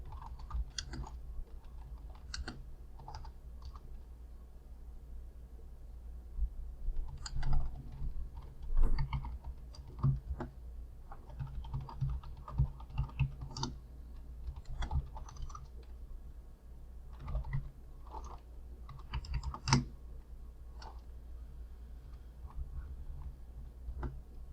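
Computer keyboard typing while configuring a GRE tunnel, irregular bursts of close key clicks with short pauses between runs of keystrokes, fairly quiet over a low steady hum.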